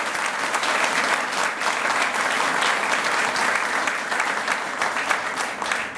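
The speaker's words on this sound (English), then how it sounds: "Let's stand and give him a round of applause, Dr. Tony Stansbury." An audience at a school accreditation press conference stands and applauds. The clapping is loud, dense and continuous throughout, with no one speaking over it.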